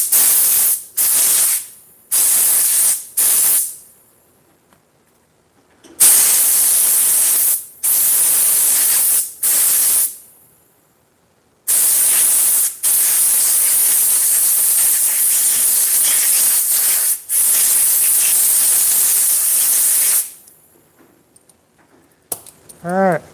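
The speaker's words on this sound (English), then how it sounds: "Quick little air compressor job there." A workshop air compressor nozzle blasts dust out of a garage in loud, hissing bursts, several short blasts at first, then long sustained rushes of air separated by brief pauses.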